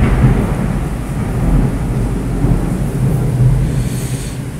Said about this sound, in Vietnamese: trời mưa rồi